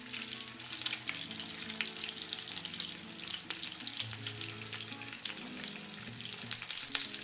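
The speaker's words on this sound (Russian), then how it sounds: "Переворачиваю котлетки на другую сторону." Steady crackling sizzle of homemade meat cutlets frying in a pan, with scattered pops and faint scraping, continuous throughout with no talking.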